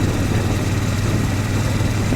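A Triumph Bonneville 1200cc motorcycle engine runs with a steady, dense low rumble that holds constant throughout, with no voices.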